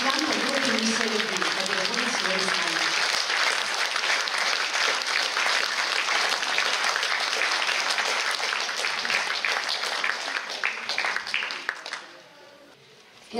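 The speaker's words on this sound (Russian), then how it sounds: "Ваши аплодисменты." A concert audience breaks into sustained applause, a dense steady roar of many hands clapping that continues for several seconds before tapering off, with a voice briefly at the start.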